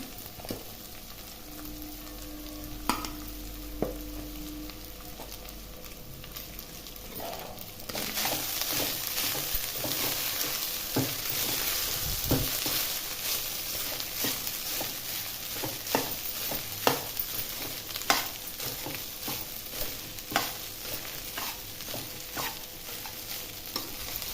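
Cooked rice is stirred into fried mint paste in a pan, a soft steady sizzle under scraping spoon strokes that grows louder and busier as the rice goes in, with no talk.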